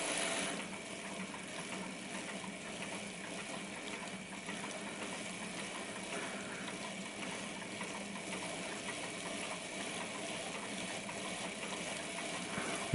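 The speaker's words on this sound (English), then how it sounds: "see if we can run this 8F, this old Hornby 8F, but adapted on the rolling road" An old Hornby 8F OO gauge model locomotive, adapted and restored, runs on a rolling road, giving a continuous faint whirring motor hum with a fine mechanical rattle of gears and wheels, steady throughout.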